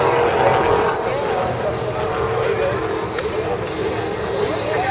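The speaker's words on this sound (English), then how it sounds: "That sounds like a supercharger in that Jeep." A supercharged Jeep engine roars steadily at an off-road course event, loud and continuous, with crowd chatter and voices mixed underneath.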